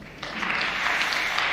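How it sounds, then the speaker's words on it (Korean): An audience at a history lecture applauds, a dense patter of many hands that starts softer and quickly swells into a steady, sustained round of clapping with no voices over it. "여러분 박수 좀 부탁드립니다."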